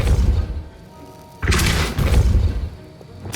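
A Depulso spell strikes in Hogwarts Legacy on PS5, a booming thud that bursts suddenly mid-clip and is followed by another heavy impact, loud and close over a low rumbling background.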